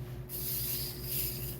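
A spray bottle gives a soft hissing burst that starts abruptly, then a second hiss follows a moment later, quiet and close, over a low steady hum.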